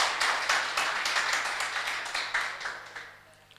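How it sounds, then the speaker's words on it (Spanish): Church congregation applauding during a Spanish-language sermon, a dense wash of many hands clapping at moderate volume that gradually fades toward the end, with no voices over it. "Dele un aplauso al Señor, hermano."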